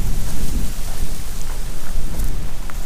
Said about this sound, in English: the wind started blowing like crazy.